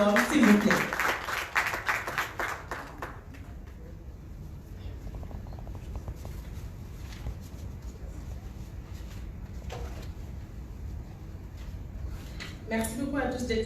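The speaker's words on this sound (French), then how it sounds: "Des applaudissements nourris pour Madame Gonegom, s'il vous plaît." An audience bursts into dense clapping for a speaker at a French-language agribusiness event, loud for about three seconds before fading into room tone, with a few scattered claps returning near the end.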